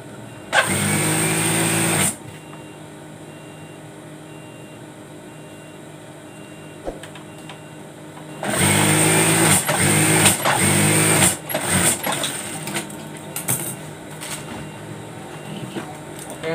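Sewing machine stitching a fabric tie onto a bolster pillow, running in two loud bursts of rapid whirring stitches separated by a quiet pause, with a third stretch that stops and starts.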